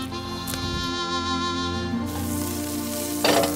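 Larch bolete mushrooms sautéing in a pan produce a steady close sizzle and crackle throughout, with a brief clatter near the end and no talking.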